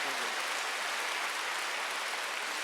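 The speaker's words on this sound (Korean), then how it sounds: "박수 세게 쳐봐야" A church congregation claps hard during a Wednesday worship service, a thick, continuous patter of many hands that sounds almost like heavy rain and holds steady throughout.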